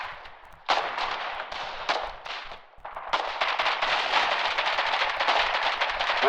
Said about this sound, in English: Warden mortar continuing to lob shells down the lane.